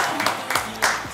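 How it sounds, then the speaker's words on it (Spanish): A studio audience on a morning interview show claps in scattered, uneven bursts, brief and close, with a few sharp individual claps standing out. "Aplauso para Uber."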